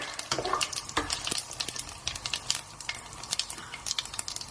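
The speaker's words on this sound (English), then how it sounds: "Asafetida, just a quick stir." Asafetida stirred into hot oil with cumin seeds in a pan for Indian dhal and spinach curry gives a steady close sizzle, broken by frequent short scraping clicks of a spoon against the pan.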